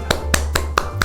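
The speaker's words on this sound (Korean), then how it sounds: "먼저 큰 축하 박수 드리겠습니다." Celebratory applause opening a talk for 12th-grade students finishing college admissions; about five sharp, separated claps over roughly a second, close and fairly loud.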